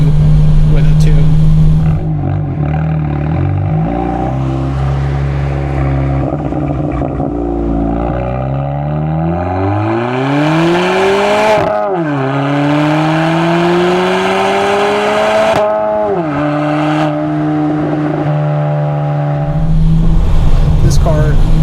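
A 2024 Honda Civic Sport Touring with a six-speed manual and an added aftermarket exhaust drones and burbles while driving, its engine note climbing through gears and easing off again, loud and close.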